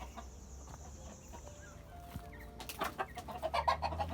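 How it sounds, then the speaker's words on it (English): Chickens cluck and fuss nearby in a coop in rural Jamaica, with a few louder squawks building toward the end over a low steady background hum. "So you have a chicken in right there, so you have some bigger ones."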